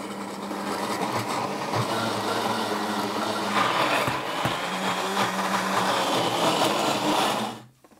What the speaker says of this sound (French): on va mixer farce fine de volaille pour réaliser un cordon bleu